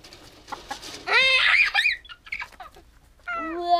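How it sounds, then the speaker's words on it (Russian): A rooster crows loudly and close by, with clucking hens and other farmyard birds around it. A second crow starts near the end. "Вот петух."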